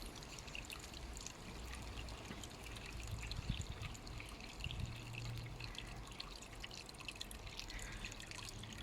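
An apple snail dropped into a garden pond gives soft, quiet water drips and small splashes, with a faint trickle of moving water behind them.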